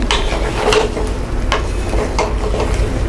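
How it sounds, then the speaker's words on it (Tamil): Moong dal sambar with onions and vegetables boiling hard over a high flame in a cooking pot. The boil is a steady, close bubbling and seething with scattered sharp pops and clicks. "இப்போது நல்லா கொதிச்சிட்ருக்கு"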